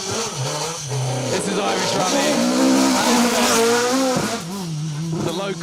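A rally car at the Down Rally stage in Ireland roars past with a continuous revving engine that rises and shifts pitch, loud and close, while a commentator talks over it.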